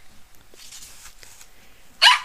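A puppy in a park gives a single short, bright bark near the end, after faint rustling and quiet background sound.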